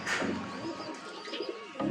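A racing pigeon arriving at its loft coos in soft, close, rolling calls over a couple of seconds, with light flutter and outdoor ambience.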